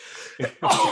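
A close, sharp sneeze bursts out loudly after a short breathy intake, part of a casual camera chat; it is brief and alone, without talk over it.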